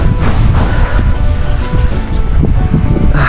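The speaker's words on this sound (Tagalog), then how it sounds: "malakas ang hangin dito kahit ngayon" Strong wind buffets the microphone at a coastal spot in Cotmo, San Fernando, Camarines Sur, producing a loud, continuous rumbling roar with gusty swells and no talking.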